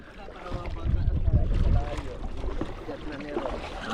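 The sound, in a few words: rowing a boat with a paddle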